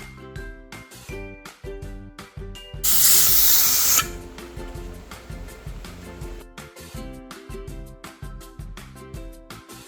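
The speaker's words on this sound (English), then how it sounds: "once your canner starts spewing steam like this, you let it steam like that to vent for 10 minutes" A pressure canner loaded with ground beef vents a loud burst of hissing steam for about a second, set against steady background music.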